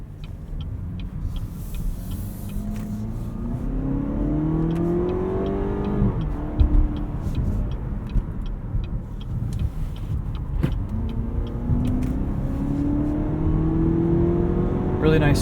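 A 2017 Cadillac CT6 driving, its engine rising and falling in pitch as it accelerates and shifts, heard from inside the cabin as a steady rumble with someone talking over parts of it.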